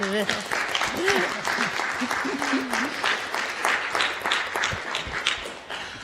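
Applause fills a council meeting chamber, steady crowd clapping at moderate level with voices speaking over it and a few sharper individual claps standing out.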